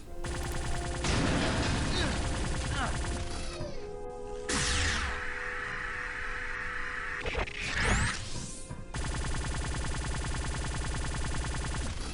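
Phaser fire in the Star Trek Elite Force shooter game: dense bursts of rapid energy-weapon shots and sweeping whooshes, with a sustained beam tone in the middle, all loud and chaotic amid game effects.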